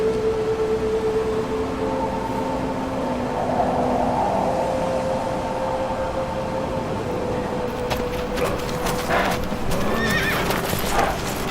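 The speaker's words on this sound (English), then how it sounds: "More horsies!" Horses in Shadow of the Colossus neigh and whinny over steady clip-clopping hooves in a cutscene, with a rising burst of hoof clatter near the end.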